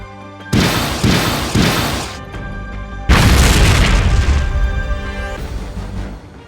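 Explosions from weapons fire in the Code Geass Lost Stories video game: loud booming blasts with rumbling tails, several in quick succession, then a heavier sustained blast with music underneath.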